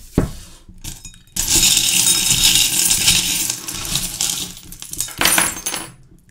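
Small metal divination charms are cast and tumble with bright clinking and jingling, a brief rattle first, then a sustained shower of tinkling, fading, and a final clatter near the end, with no talking.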